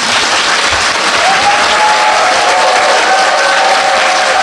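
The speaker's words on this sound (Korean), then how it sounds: "굉장히 어려운 과제를 해낸 감독에게 박수 부탁드립니다." An indoor audience applauds the director after a film screening, producing dense, loud, sustained clapping with no break.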